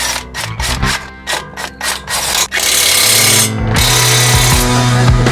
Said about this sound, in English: Let's get this last bolt in.